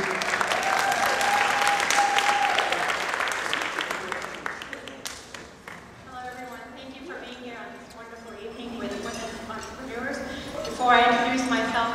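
An audience claps loudly at a community annual event honoring guests, the applause gradually thinning before voices and talk take over the rest of the stretch.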